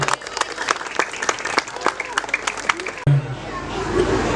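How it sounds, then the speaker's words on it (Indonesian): Audience applause at a public event in Pekalongan, where jelamprang motif batik cloth is being presented. A crowd claps steadily in a dense burst for about three seconds. The clapping then breaks off and a softer, murky crowd ambience follows. "Tepuk tangan."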